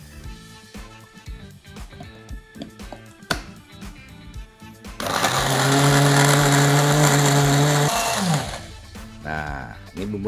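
After a stretch of quieter handling noise, a blender roars loud and steady for about three seconds while grinding spice paste for Indonesian pepes, then spins down.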